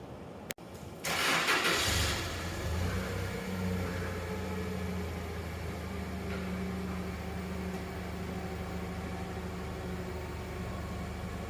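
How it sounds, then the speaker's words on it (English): A forklift engine in a Case 310 dozer restoration shop cranks to life with a sharp click, then settles into a steady, droning mid-pitched hum while backing up to pull the dozer's engine. "Okay, Charlie's on the forklift"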